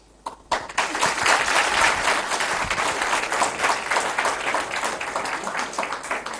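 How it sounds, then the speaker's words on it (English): An audience at a ceremony for a caretaker prime minister's address breaks into applause after a brief quiet start, the clapping swelling quickly into a full, busy patter that continues without letup to the end. "Once we are done with the clapping part,"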